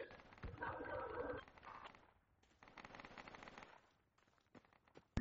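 Video game gunfire sounds quiet and distant, with a dense rapid burst at first, then a second volley after a short gap, and scattered single shots near the end.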